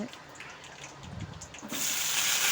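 Raw plantain pieces are rinsed under running water for a gravy, with the tap gushing louder and steadier in the second half after softer splashing and handling noises.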